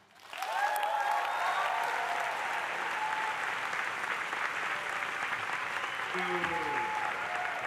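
A large audience at a Harvard College Class Day ceremony breaks into sustained applause that stays dense and steady, with a few whistles and cheers rising above it.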